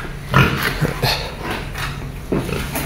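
Vietnamese local breed pigs on a farm give several short, close grunts over steady farmyard background noise.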